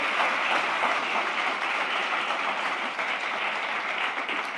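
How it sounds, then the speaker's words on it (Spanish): A church congregation applauds the word of God with a dense, sustained wash of clapping from many hands, steady and fairly loud throughout with no pauses. "Un aplauso a la palabra de Dios"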